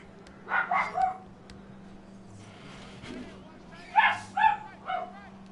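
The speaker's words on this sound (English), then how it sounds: "Oh my God, dog." A dog barks and yips in two clustered bursts, a few sharp barks near the start and a louder run of three or four about three seconds later, fairly close, over a steady low hum.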